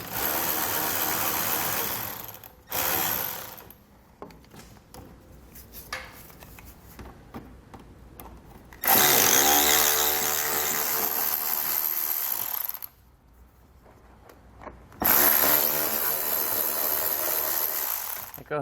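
A power tool removing T20 Torx fasteners from a vehicle during a base plate install, loud bursts of whirring and ratcheting broken by short quieter gaps with clinks, close by.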